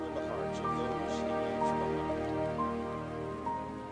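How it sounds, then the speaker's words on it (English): Soft rain falls with a steady, gentle patter throughout, layered under sustained tonal music. "As rain falls softly, a little girl holding a bright pink umbrella appears."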